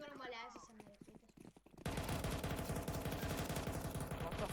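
Rapid automatic gunfire in a first-person shooter video game bursts in after a moment of quieter game sounds and continues as a dense, loud rattling stream, with players talking over it.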